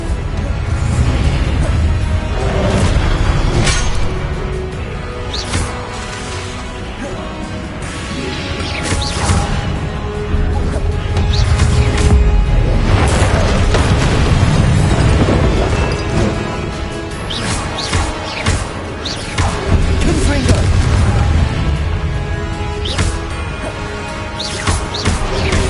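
Confringo fire spell explosions in Hogwarts Legacy: a dense, continuous barrage of crashing blasts and smashes with whooshing spell sounds, loud and chaotic throughout with no pause.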